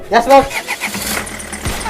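A car engine cranks and catches under a man's urgent speech, the starting sound short and close, mixed beneath the talking.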